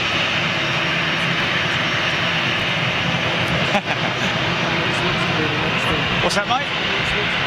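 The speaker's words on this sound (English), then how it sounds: "Nice big power up by those CFMs." Jet airliner with CFM engines spools up at Dusseldorf airport, a loud sustained roar and rumble filling the air throughout, with someone briefly talking nearby.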